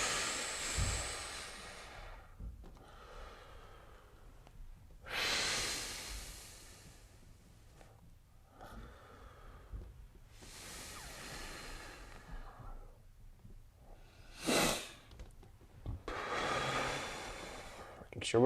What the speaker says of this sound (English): Make sure we're breathing.